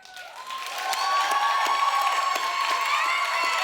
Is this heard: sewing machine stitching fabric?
no